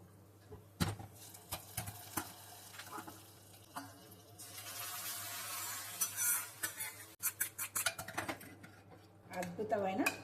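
Fried tempering tipped into cucumber dal and stirred in a pot, giving faint clatters of a spoon against metal and a soft sizzling hiss, with a voice talking quietly underneath.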